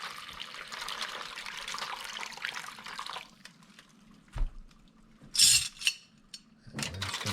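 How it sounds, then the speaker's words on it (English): Warm water poured into a container for cleaning sterling silver and copper spoons: a rushing, splashing pour for about three seconds, then quieter trickles, a few clinks and knocks of the vessel, close by. "Then this here is warm water, just a little warmer than lukewarm. And we're going to put that in there."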